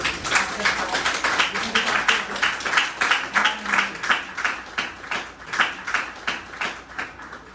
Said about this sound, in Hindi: पास्टर से हालेलुया ताली बजा के उनका स्वागत करें